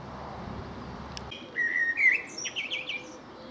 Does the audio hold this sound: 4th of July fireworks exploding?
no